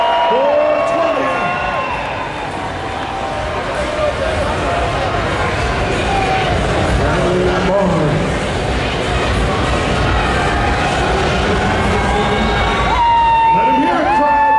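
Crowd at a strongman event at the Arnold Classic cheering, whooping and shouting loudly and continuously for a 6'8", 420-pound multiple-time champion, with a dense roar throughout and excited yells rising near the end.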